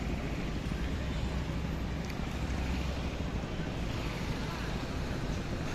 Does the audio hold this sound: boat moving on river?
yes